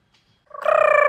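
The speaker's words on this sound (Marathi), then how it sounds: "चला इथं बघा बदक बितक आहेत" A duck at a farm lets out one loud, rasping, pulsed call up close after a brief near-silent moment, with no talk.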